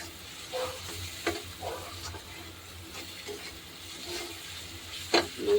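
Garlic frying in oil for a Bengali lote fish dish, a soft steady sizzle with occasional scrapes and clinks of a stirring spoon, moderately quiet and close, with no talking.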